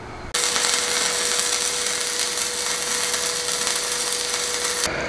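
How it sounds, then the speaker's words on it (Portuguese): A Smarter Starevo 200M welder lays a stick-welding pass with a 2.5 electrode on a homemade bench vise. A steady, close, crackling hiss starts abruptly and holds for about four and a half seconds before cutting off. "Vou dar um passo de solda aí."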